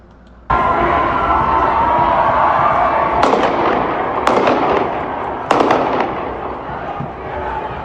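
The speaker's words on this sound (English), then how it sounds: "That's 3 shots." Three sharp gunshot-like cracks ring out during a street protest, heard from a balcony above, spaced roughly a second apart over a steady loud crowd roar with shouting.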